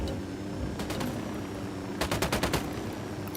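Automatic gunfire in the video game Ghost Recon Wildlands sounds in quick bursts, with a short volley and then a longer rapid string of sharp shots. It is loud and close, set over a steady rumble of background noise.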